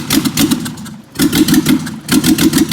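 BMW 325e six-cylinder engine misfiring and running on only three cylinders, a loud, close, rough idle with an uneven throb, briefly dropping away before surging back.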